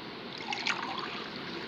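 Liquid pouring in the Toca World video game, a short, steady synthetic trickle with a slight burst partway through, quiet and alone.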